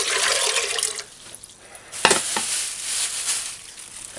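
Water pours into a pressure cooker pot heating on a stove, a loud rushing stream at first, then a quieter hiss and bubbling with a clink partway through.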